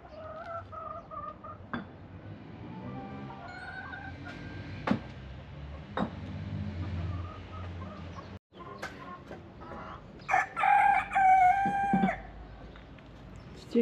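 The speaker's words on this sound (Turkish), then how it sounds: "Benim küçük horozlar da durmadan ötüyor." Several small roosters crow repeatedly over a village farmyard background, with clucking hens and scattered sharp knocks; the crows are loudest toward the end.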